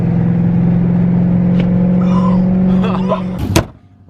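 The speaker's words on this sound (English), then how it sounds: "And there's a car behind me too." A car sits running on the road, its engine holding a steady tone before fading out with a short clunk near the end.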